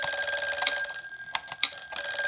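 A telephone rings in bursts in an old-time radio drama set in a dim room, its bell cutting in and out with short gaps, fairly close and clear, with no one speaking over it.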